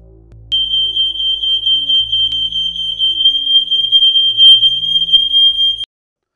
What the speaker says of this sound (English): demonstrate that this was a fully functioning ionisation alarm